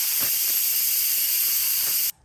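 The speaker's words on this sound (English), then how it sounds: "we're gonna help by switching this nozzle over here, and it will release the pressure." Steam pressure vents from the release valve of an Instant Pot Duo Plus as a steady, close, loud hiss that runs for about two seconds and then cuts off abruptly.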